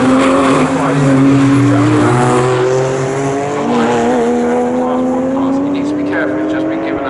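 Porsche race cars lapping the Snetterton circuit in a club championship race, their engines droning loud and constant with rising and falling pitch, under continuous commentary.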